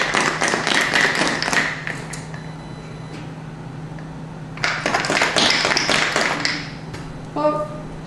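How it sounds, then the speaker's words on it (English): A whiskey cocktail is shaken in a cocktail shaker in two loud bursts of rapid rattling ice, separated by a quieter gap, with a brief tap at the end. "We're going to shake."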